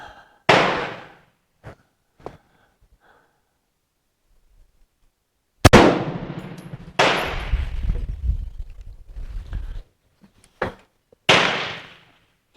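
A Hakim rifle fires several loud, sharp shots outdoors, spaced irregularly across the stretch with echoing decays, one followed by rumbling noise, between stretches of near silence.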